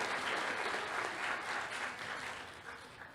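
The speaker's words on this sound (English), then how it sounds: "Let's give a round of applause for Springfield and our high school." A crowd at a high school arts conservatory graduation ceremony applauds, a steady, dense wash of clapping with no voices that fades slightly toward the end.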